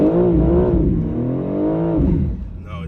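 2022 BMW M4 Competition (G82) accelerating hard in M mode with traction control off, a loud, close engine roar rising and then sweeping through a shift before easing off near the end.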